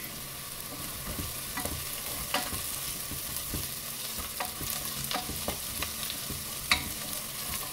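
Onions and curry leaves sauté over high flame in a pan, with continuous frying sizzle broken by repeated spatula scrapes and stirring knocks, close and moderately loud.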